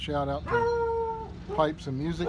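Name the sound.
dog barking and howling at a delivery man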